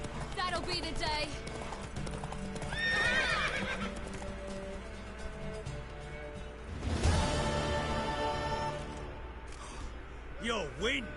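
A horse whinnies loudly several times while hooves clip-clop beneath, with game music, a crash and brief voices mixed in, in the video game The Witcher.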